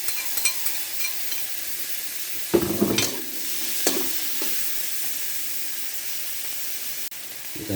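Onion, ginger, garlic, tomato and pechay stalks sautéing in a hot pan for mackerel: a steady close sizzle with sharp stirring scrapes and clatters around the middle, then a long even hiss, no talk.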